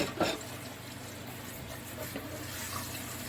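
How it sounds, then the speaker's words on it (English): Running water from a kitchen faucet rinses dishes and food residue, a steady, close hiss of flow with a brief splash at the start. "Throw some rinse water on some of this stuff before it turns into something ugly."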